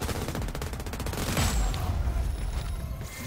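Enemy gunfire in the open-world shooter Crackdown 3: rapid automatic bursts rattle loudly, broken by a heavier low thump near the middle, then a steady churning din with no talking.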